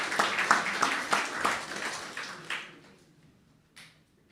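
Applause at an anniversary celebration event honouring a Caribbean cuisine restaurant, sparse and moderately loud at first, then thinning out to a few scattered claps.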